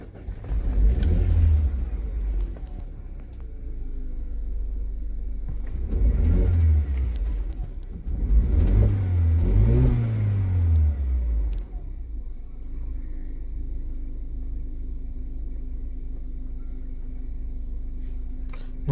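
A car engine is started during an OBD diagnostic session, then revved in a few loud rising and falling bursts close by before settling into a steady idle, with no talking.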